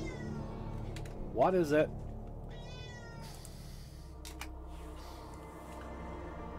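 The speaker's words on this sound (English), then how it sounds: "Hear my cat in a second. Here he comes." A cat gives one drawn-out, whiny meow close to the microphone, and a person speaks softly afterward over low room hum.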